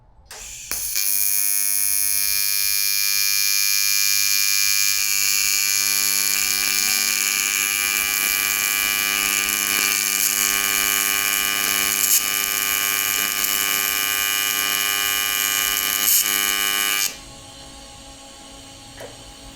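An AC welder making a tack weld, a steady loud electric hum and buzz that holds for about sixteen seconds and then cuts off abruptly.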